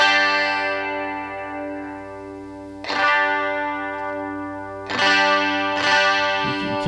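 A 1967 Rickenbacker 360 12-string electric guitar on its bridge pickup with chorus-like shimmer, sustained ringing chords with three fresh strums that decay slowly, loud and alone.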